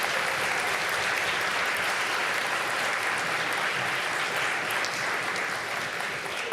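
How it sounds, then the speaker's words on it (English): Sustained applause from an audience at a children's Christmas lecture, thanking health and safety officers: a dense, steady, fairly loud patter of many hands clapping, continuous from start to end. "please, if we can give them a round of applause."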